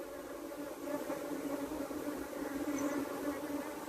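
Honey bees hum steadily at a hive, a soft, continuous buzz with no breaks and no voices.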